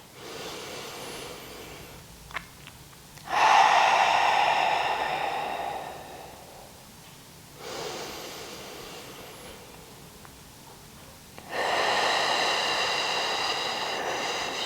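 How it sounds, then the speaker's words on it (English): Slow, deep breaths in a guided yoga squat for birth preparation, each long airy inhale or exhale rising and fading in turn, close and fairly soft, with no talking over them. "taking a deep breath."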